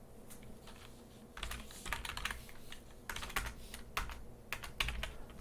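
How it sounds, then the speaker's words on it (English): Fingers type in steady bursts on a computer keyboard while someone writes code. The keys click softly and close by, with brief pauses between bursts and no voices. "so we're going to start writing our code."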